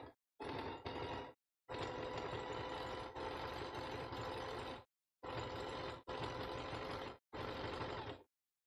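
Sewing machine stitching the walls of a big basket, running in several loud bursts of rapid, steady mechanical chatter separated by short pauses as it stops and starts.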